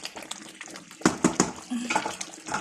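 Egusi melon soup bubbling and splashing in a pot over a fire, with close, wet spluttering bursts and sloshing that come and go, moderately loud.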